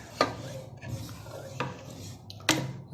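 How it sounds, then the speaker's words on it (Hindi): Turnips frying in oil in a pan while being stirred, quiet scraping strokes of a utensil against the pan every second or so over a soft background. "अब इसको ऐसे हिलाते हुए हल्का हल्का सा हिलाते हुए 3 से 4 मिनट के लिए पकाना है आपने"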